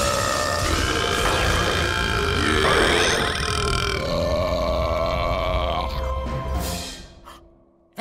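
A loud, drawn-out cartoon belch rumbles on for several seconds, gradually fading out near the end.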